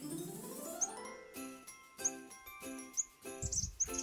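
A cardinal visits a birdseed wreath feeder hung outdoors, giving bright, high chirps in short repeated bursts against tinkling, bell-like background music.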